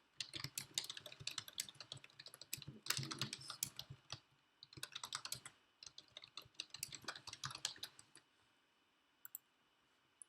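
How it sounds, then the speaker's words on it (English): Fingers type on a computer keyboard, with quiet, close clicking that comes in several quick bursts separated by short pauses, and no talk. "I'm going to paste it in there, and I'm going to type it in"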